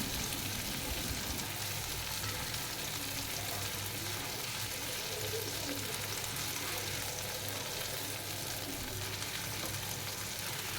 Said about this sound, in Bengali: এখন আমি চুলার আঁচ মিডিয়াম টু লো ফ্লেমে রেখে ভালো করে চাপগুলোকে ভেজে নিচ্ছি।